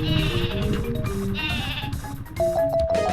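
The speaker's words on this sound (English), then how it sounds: "Sleepy sheep, come to me! It's the Ballad of the Rams!" Sheep bleating from the Sleepy Sheep spell in the Paper Mario video game: several loud, wavering game bleats layered over music, with a sustained tone near the end.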